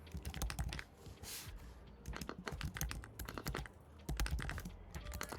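Rapid typing on a computer keyboard, close and fairly quiet, with bursts of clicking keystrokes, short pauses and a heavier key strike or two, no voices.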